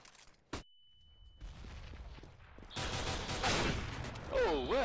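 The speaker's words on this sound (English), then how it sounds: "Deploying flashbang." Flashbang grenade going off in Counter-Strike: a short sharp burst early, then dense, loud bright crackling gunfire-like noise building toward the end, with a voice speaking briefly.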